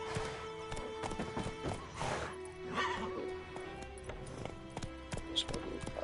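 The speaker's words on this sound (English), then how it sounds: "There's my horse." Rhythmic clip-clop of hooves runs throughout, with a horse whinnying partway through, set against a busy background from the video game The Witcher.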